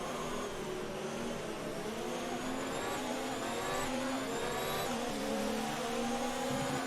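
An F1 car engine howls in the F1 2019 racing game during the China race, with rising pitches that climb repeatedly through gear changes, a steady, moderately quiet whine without talk.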